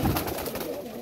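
Pigeons coo in a soft, steady murmur, several birds overlapping close by with a faint rustle underneath.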